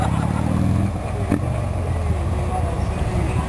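A motorcycle engine revs for a wheelie stunt, a loud close rumbling roar that eases slightly after the first second, with a voice talking over it.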